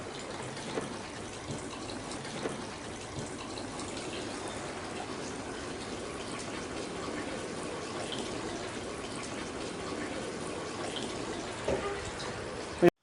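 Water poured steadily onto a watershed model to mimic village rainfall gives a continuous, even splashing and trickling wash for the whole stretch, moderately loud and close, with no pauses.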